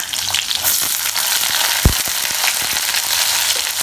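Fenugreek seeds, green chillies, garlic, curry leaves and a dried red chilli for an okra tamarind gravy fry in hot oil in a pan, with a loud, continuous crackling sizzle and a sharp pop near the middle.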